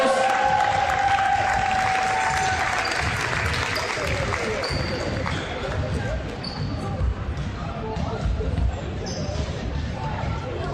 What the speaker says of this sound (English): I'd like to give a big round of applause to our floor wipers